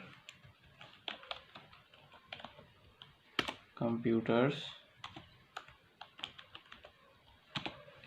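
Someone types on a computer keyboard in MS Word, producing a steady run of close, crisp keystroke clicks spread across the whole stretch, briefly interrupted by a spoken phrase in the middle.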